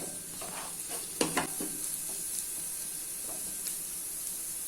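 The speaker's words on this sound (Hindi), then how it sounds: "मीडियम फ्लेम पे 1 से 2 मिनट तक मसाले अच्छे से भून लेते हैं।" Masala spices fry over a medium flame in a goat head curry, giving a steady soft sizzle with a few spoon scrapes and clinks as they are stirred, close and without voices.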